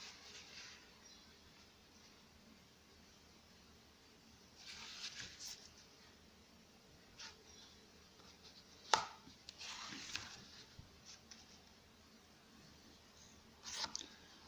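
A blade cuts through a foam sheet in a few short, soft scraping bursts close by, with quiet gaps between the cuts and no talking.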